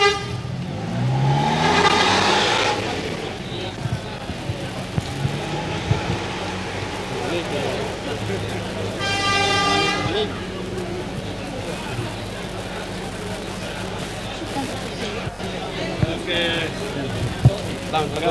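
Vehicle horns honk in several bursts as a cross-border bus departs on the Kupang to Dili, Timor-Leste route, over a steady engine rumble and crowd noise with people talking nearby.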